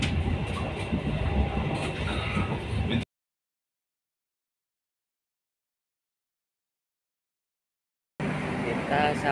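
A Gajayana passenger train rolls along the rails, a steady rumble with faint clatter heard from inside the carriage, cut off by a long stretch of silence before the same running noise picks up again.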